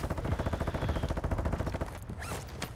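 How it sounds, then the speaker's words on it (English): Sustained rapid automatic gunfire in a ranked online shooter match, a dense rattling burst of shots close and loud for about two seconds before breaking off into scattered fainter sounds. "He's like shooting at me."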